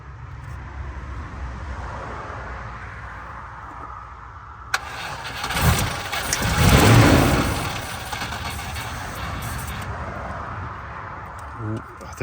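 A Range Rover Classic V8, left standing for 21 years, cranks over steadily, the starter's churn swelling into a rougher, louder spell midway before easing back, with voices heard over the background.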